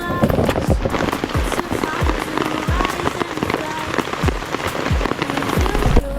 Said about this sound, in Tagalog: At biglang bumuhos naman yung malakas na ulan.